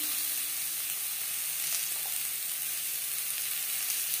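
Raw mango pieces for a sweet chutney fry in a pan with salt and turmeric. A steady, even sizzle hisses without a break, close and moderately quiet, with no other sounds.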